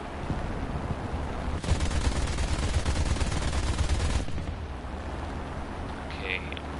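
Heavy gunfire in War Thunder: a sustained, loud burst of rapid automatic fire lasting a few seconds, then cutting off abruptly into quieter engine rumble.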